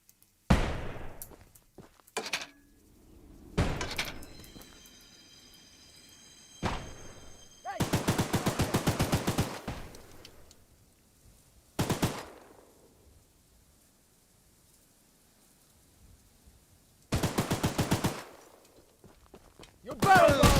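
Gunfire in a video game about hunting T-Rex rings out in several sharp bursts of rapid shots, separated by short silent gaps, loud and close.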